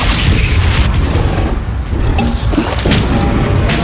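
A Bombarda spell explosion in the Hogwarts Legacy video game, a loud, dense, rumbling boom with crashing debris that fills the whole moment, with no speech over it.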